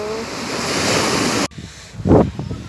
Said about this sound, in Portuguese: Estamos dando tchau para esse mar agora.